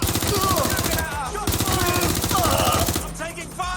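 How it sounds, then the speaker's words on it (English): Rapid automatic gunfire rattles in Watch Dogs Legion, loud bursts of machine-gun fire broken by short pauses, with brief shouted voices mixed in. "I'm taking fire!"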